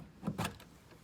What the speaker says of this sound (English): I heard it click over by the machine over there